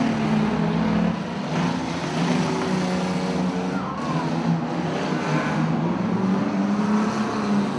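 Unlimited banger racing cars roar around the Coventry dirt track, a dense continuous engine din with revving motors passing close and loud throughout.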